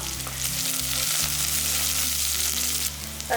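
Three cut green chillies frying in a pan for a bottle gourd and lentil dish, making a loud, close, continuous sizzle over a steady low hum.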